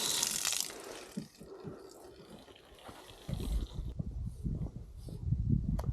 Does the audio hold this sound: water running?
yes